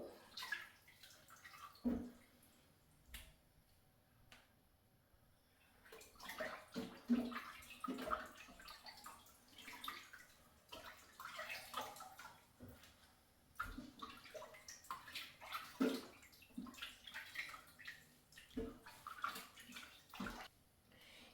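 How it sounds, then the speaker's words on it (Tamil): Tap water runs and splashes in a kitchen sink while fish is rinsed for a curry, with irregular gushes, drips and sloshing that rise and fall quietly over about twenty seconds. "இப்போ நான் மீன் வந்து கழுவி எடுத்துட்டேன்"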